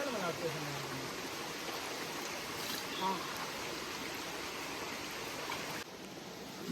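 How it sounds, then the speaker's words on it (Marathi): A river flows in a quiet rural spot with a soft, even rush of water. It is fairly faint, and a voice is heard briefly. "नदी भारी वाटते बघा"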